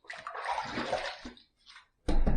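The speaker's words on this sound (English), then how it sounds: "I'm going to put a little more water on my face." Water splashed by hand onto a face before a safety-razor shave, heard as a broad wet rush with a second brief burst after a short pause, close and fairly loud.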